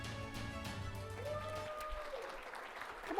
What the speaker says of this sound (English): I'm actually shocked that anybody applauded.